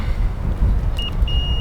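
A multimeter gives a short continuity beep and then a longer steady tone while probing RV battery wiring, both clear over a low background rumble.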